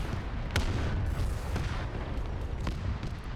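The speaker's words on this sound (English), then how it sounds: "Oh my god, but the artillery" Artillery fire in the Arma 3 Zeus battle game, several dull booms spaced about a second apart over a constant low rumble of distant combat.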